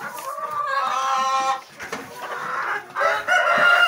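Embrapa 051 laying hens cluck and murmur close by on a farm floor, a steady layered flock chatter with brief dips and swells throughout.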